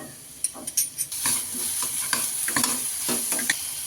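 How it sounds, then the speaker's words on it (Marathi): Green masala of chili, ginger and garlic dropped into a hot pan, sizzling and frying steadily with repeated stirring scrapes and clinks of a spoon, close and moderate in level, while making Surati samosa filling. "आता याच्यात आपण हिरवा मसाला टाकणार आहे। हिरवा मसाल्यामध्ये मिरची, अद्रक आणि लसूण आहे"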